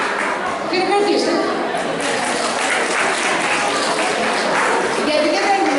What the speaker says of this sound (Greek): Χειροκροτήστε.